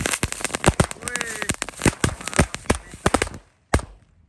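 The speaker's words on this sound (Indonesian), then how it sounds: "Selanjutnya kita nyalakan ini mercon kupu-kupu warna hitam, kupu-kupu Thor 1 pak sekaligus" A pack of black butterfly firecrackers, Thor brand, goes off in a rapid burst of sharp, loud cracks and pops with a few whistling streaks, then thins to scattered bangs and one last crack before silence.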